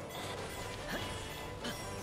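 A weak point smash attack lands in the Hyrule Warriors: Age of Calamity video game during a fight against Calamity Ganon, a heavy crashing impact buried in a dense, continuous wash of game music and effects.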